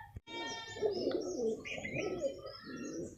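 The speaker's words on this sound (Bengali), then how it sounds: "কবুতরটা তোমাদেরকে শখ করাচ্ছি দেখো কবুতরটা" A racing pigeon, a male bird just returned home and thin from not eating, gives repeated throaty coos up close, a run of soft rolling calls with brief chirpy notes, alone without speech.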